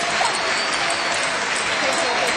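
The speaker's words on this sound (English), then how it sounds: "They go completely wild, and so does the crowd." A curling crowd cheers and applauds Sweden's win, with dense, sustained clapping and roaring close at hand.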